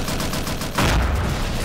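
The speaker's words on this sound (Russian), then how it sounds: "Такое ощущение, что эффекты добавили на взрывы, еще лучше стало." An RPG rocket explodes in Garry's Mod during a zombie fight, a sudden loud boom with a rumbling tail that cuts in over steady background game noise.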